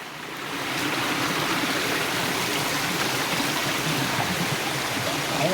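Close, steady rushing water from the Champagne River in Saint Ann, Jamaica rises quickly and then holds as an unbroken, full-bodied roar.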